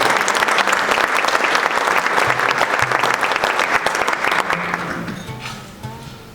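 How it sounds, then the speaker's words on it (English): Dense, sustained applause from a dinner audience at an Iftar banquet, loud and close at first, then gradually thinning and fading out toward the end. "a round of applause"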